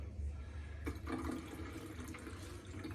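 Water poured into lemon juice at home, a steady splashing trickle that runs for about three seconds with a few brighter surges, close to the mic.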